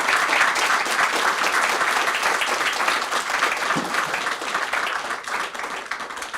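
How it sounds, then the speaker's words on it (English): A press club audience gives a warm round of applause for a three-person panel on reporting from Canada's social edges, full sustained clapping that tapers slightly toward the end. "Can we give them a nice warm round of applause?"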